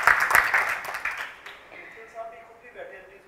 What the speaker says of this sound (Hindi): एक बार जरा जोरदार तालियां हो जाए फॉर मिस्टर लोकेश मित्तल